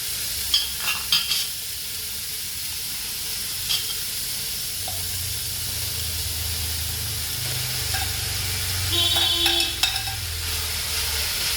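Vegetable fried rice with basmati rice, carrots and beans is stirred in a hot pan: a continuous sizzle with a low scraping rumble and scattered light clicks of the utensil.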